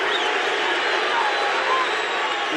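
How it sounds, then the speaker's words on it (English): A boxing arena crowd chants a fighter's name, a steady, dense roar of many voices that fills the hall without a break. "As much as the crowd is chanting Stevie"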